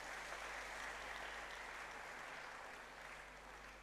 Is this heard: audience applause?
yes